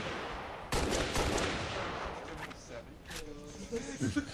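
Gunfire from the video game Halo Reach during a sniper duel, a sharp loud shot followed by a rolling echo and softer game noise, with a commentator's voice partly over it.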